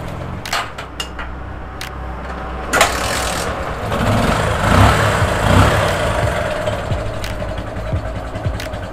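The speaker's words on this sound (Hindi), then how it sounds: "ये बाइक हमारे बिना एक्सीलेटर से स्टार्ट हो रही है" A motorcycle engine starts up with no throttle applied, then settles into a steady idle, running close and fairly loud with brief clicks and knocks over the low rumble.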